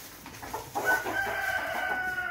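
Chickens clucking softly on a farm as they scratch around for grain, a faint, brief burst of fowl calls over low background noise.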